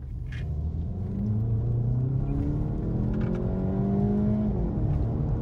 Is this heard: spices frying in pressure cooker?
no